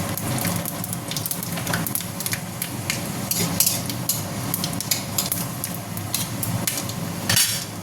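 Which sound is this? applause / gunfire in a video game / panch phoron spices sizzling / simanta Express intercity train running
panch phoron spices sizzling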